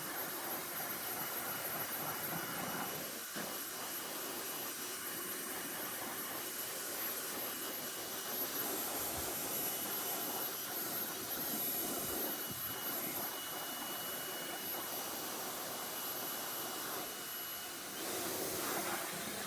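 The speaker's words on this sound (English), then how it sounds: "So I'm just going to blow dry this." A hair dryer blows with a steady, loud roaring whoosh that runs without a break throughout.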